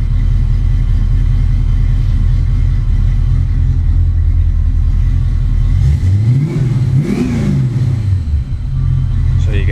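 A 1993 Ford Mustang LX Foxbody idles with a deep, loud exhaust rumble, then two sharp revs swell and fall back around the middle before settling into idle again.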